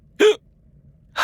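A single sharp, voiced hiccup sounds close and clear in a quiet room, with the start of a second one cut off at the end.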